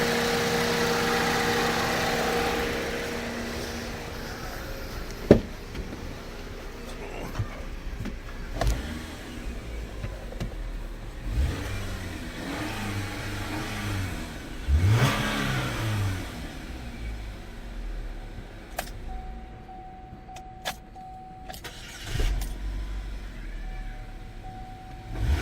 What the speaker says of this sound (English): Let me go cycle the key, rev it up, see what pops in here.